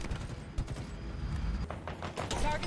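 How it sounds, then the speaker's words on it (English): Three-round bursts from the battle rifle in Halo Infinite, a sci-fi shooter, crackle at moderate level over a constant busy game din, with sharp shot transients near the middle and end. "Like this one is the battle rifle lah, which is actually a burst 3-shot weapon"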